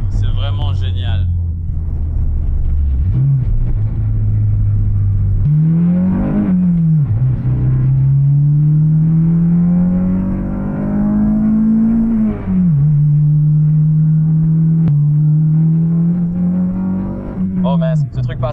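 Acura RSX engine revving hard as VTEC engages, a loud droning pitch climbing through the gears with brief dips at each shift, and someone talks over it.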